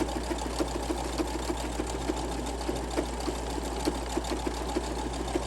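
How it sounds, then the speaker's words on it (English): Sewing machine stitching fabric ruffles runs steadily with a fast, even mechanical chatter and low motor hum, close and continuous with no voices. "sometimes Samuel L. Jackson does not like those type of stitches that require a whole lot of thread"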